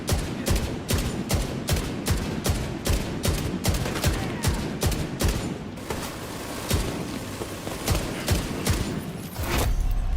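Rapid bursts of video game gunfire, a heavy gun firing in a dense sustained volley of sharp repeated shots, loud and close with brief pauses, no talk over it.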